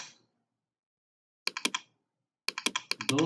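Keys tapped on a CNC machine control keyboard while entering a program, in two quick bursts of crisp clicks separated by silence, close and fairly loud.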